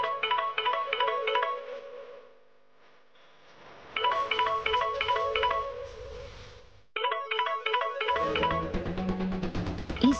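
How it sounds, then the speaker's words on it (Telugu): A mobile phone rings with an incoming call in a Telugu TV drama scene. A repeating electronic ringtone plays in two clear bursts after a quiet gap, and a low hum joins the second burst. "ఈ శ్రీవల్లి నాకు కాల్ చేస్తుందేంటి?"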